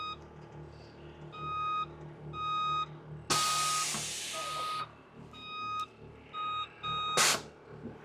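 Air suspension on a 1986 Chevy C10 pickup adjusting its ride height, heard as repeated short electronic beep tones in regular bursts with a loud hiss of air venting in between and a brief burst near the end.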